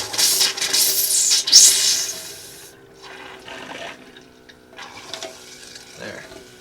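An air compressor forces water out of a Class C RV plumbing line during winterizing, a loud hissing, gushing spray that sputters and then eases into weaker bursts, with brief talk partway through.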